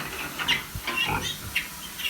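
Newborn piglets fighting to suckle, squealing and grunting in short overlapping bursts, close by and jostling.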